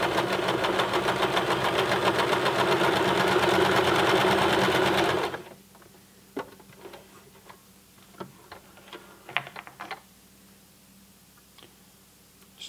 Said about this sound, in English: we're using the Babylock BL9 still with a standard foot on it